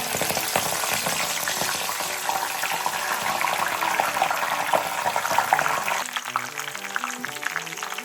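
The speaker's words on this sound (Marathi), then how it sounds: "तेल गरम झालेलं आहे तर आता फुलं टाकून घ्यायची." Hibiscus flowers fry in hot oil for a homemade hair remedy, giving a steady, close, dense crackling sizzle throughout. It eases slightly near the end as a faint musical tone rises underneath.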